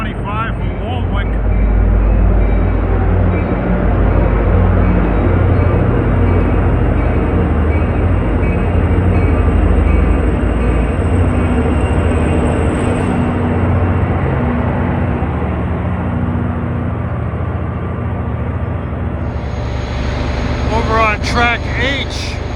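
A commuter train hauled by EMD locomotives rumbles loudly and steadily into Secaucus station, with heavy low engine drone, a brief high whine, and people talking over it.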